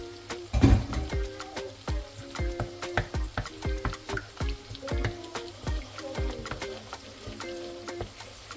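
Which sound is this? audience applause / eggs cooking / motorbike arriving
eggs cooking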